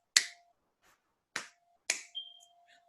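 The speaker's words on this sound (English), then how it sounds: "So I taught my kids to do the tap, clap, snap." A short tap, clap and snap sequence performed as a classroom routine: three sharp percussive hits spaced about a second apart, followed by a brief softer tail, close and alone with no talking.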